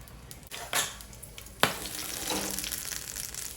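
Green chillies fry in a pan with a soft, steady sizzle, broken by a few quick stirring scrapes and light clinks of a spoon against the pan.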